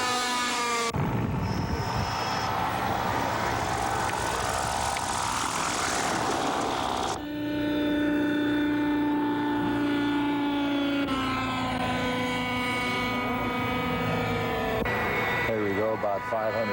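A small radio-controlled model helicopter engine whines loudly and continuously, its pitch rising and shifting as it flies around nearby, while a person talks over it.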